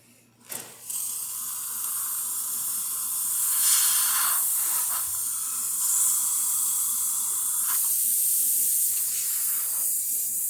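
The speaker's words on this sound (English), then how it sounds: "And let me start with the steamer." A La Pavoni lever espresso machine's steam wand, just after a full service and tune-up, releases a loud, steady hiss of steam that runs almost continuously, with slight surges and a short sputter at the start.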